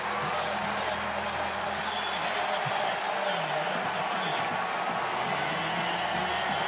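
A college football stadium crowd at a Texas Tech at West Virginia game roars in a steady, dense wash of cheering that fills the whole stretch, with a commentator talking over it.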